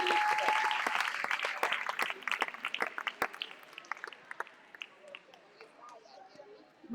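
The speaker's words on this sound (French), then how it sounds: "un tonnerre d'applaudissements pour ce jeune" Audience applause at a roller derby bout between Montreuil and Marseille teams, loud steady clapping that thins into scattered individual claps and fades toward the end.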